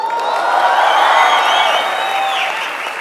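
A seated audience at a motivational talk breaks into loud, sustained applause mixed with crowd cheering, steady throughout the few seconds.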